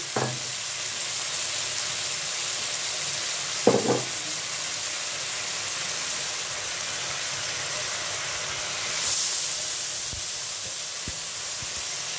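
Water poured onto spices frying in a pan for a squash curry sets off a steady, close sizzle and hiss that holds evenly throughout, with a couple of faint clinks and no voices.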